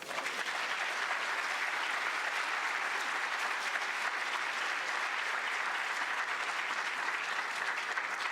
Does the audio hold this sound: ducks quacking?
no